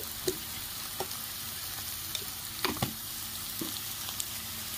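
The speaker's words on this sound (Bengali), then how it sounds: "ভালো করে নুনটা মিশিয়ে নিচ্ছি" Salt is stirred into a pot of water for egg chowmein, with a spoon scraping and clinking a few times over a low steady hiss.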